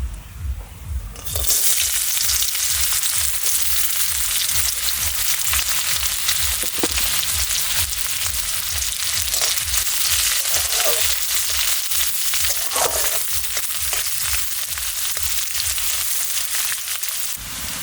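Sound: chopped onion frying in oil

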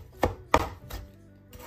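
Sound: chopping green chilli rings finely with a knife

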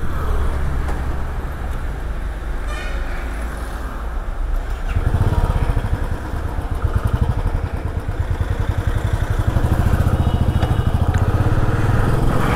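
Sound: motorcycle engine idling in a traffic jam

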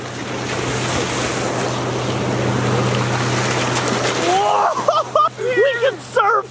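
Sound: ocean waves

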